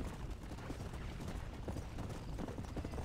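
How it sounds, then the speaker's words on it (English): Horse hooves clip-clop at a steady gallop in Red Dead Redemption, a continuous rapid rhythm of hoofbeats over ground with no talk. "I wish I could name this horse."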